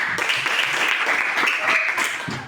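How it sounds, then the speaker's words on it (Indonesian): A group claps for a few seconds, a dense, steady patter of many hands that tapers off at the end. "Jadi Ibu berikan tepuk tangan buat kalian semua."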